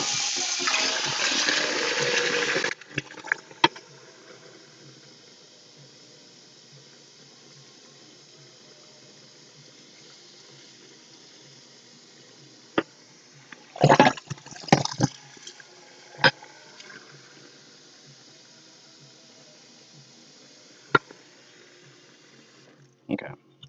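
Cold tap water running into a bath to cool food while cooking a Thanksgiving turkey: a strong, steady rush for about three seconds, then it stops, leaving a quiet room with scattered clicks and knocks.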